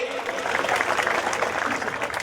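A crowd at a village wrestling match in Sangli applauds a wrestler with dense, steady clapping throughout, loud and close, with voices mixed faintly underneath.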